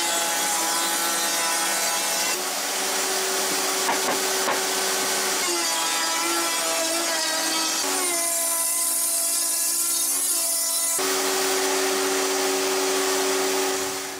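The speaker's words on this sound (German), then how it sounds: "Hier in meinem festen Frästisch habe ich jetzt einen 12 mm Fräse reingemacht." A stationary router table fitted with a 12 mm bit cuts grooves into a wooden board, a steady loud high-pitched whine with the tone shifting as each pass is fed, running continuously throughout.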